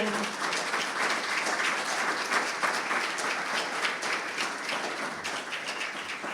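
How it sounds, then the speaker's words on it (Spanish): A church congregation gives loud, sustained applause, a dense continuous roar of many hands clapping close by that holds steady throughout. "Denle un fuerte aplauso a Él, por favor."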